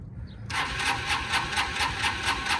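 A 1985 Honda Elite CH 150 scooter engine cranks over with a repetitive whirring churn, steady pulses from a starter motor, fairly close and continuous after a brief quiet start.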